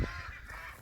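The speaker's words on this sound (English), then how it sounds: "as you can hear, quacking away" Ducks on pasture quacking nervously near a converted polytunnel duck house, a brief nasal honk at the start followed by faint flock chatter.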